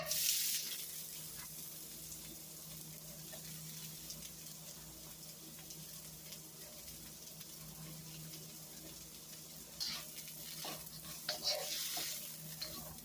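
Onions sizzle and fry in hot, smoking oil in a pan, a steady quiet crackle with scraping stirs and clinks of a utensil.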